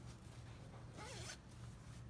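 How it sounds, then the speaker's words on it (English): A zipper on a sewn fabric zipper pouch is pulled closed in one quick, close, soft zip over a quiet background. "Zip it up."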